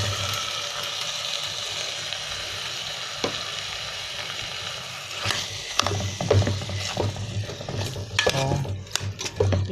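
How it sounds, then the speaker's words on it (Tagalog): Chicken sizzles steadily in a hot pot, then scraping stirs and clinks of a utensil against metal join in, growing busier toward the end. "Igisa mo na tong manok."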